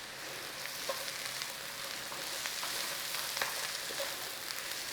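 Cabbage frying in a pan with a steady, close sizzle and faint crackles that keep up evenly, with no talking.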